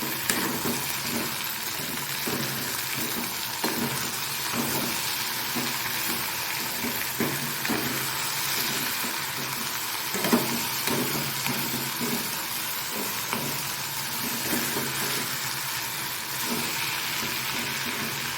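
Potatoes frying in oil in a covered pan on a low simmer, giving a steady soft sizzle and hiss with faint irregular crackles throughout, no talking.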